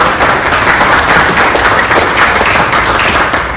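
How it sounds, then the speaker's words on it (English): Loud, dense applause from an audience at a senior fraud awareness session, a continuous roar of many hands clapping close by without pause. "Brendan McHugh, give him a round of applause"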